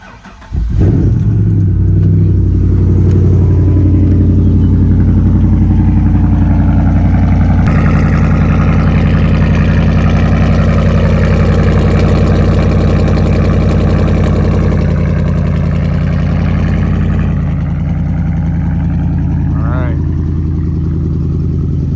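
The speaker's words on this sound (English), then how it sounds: "We'll get you guys a cold start though." A Jeep engine cold starts, catching quickly, then settles into a loud, steady, rumbling idle with a slight rise in revs partway through, heard outdoors in wind with a voice talking over it.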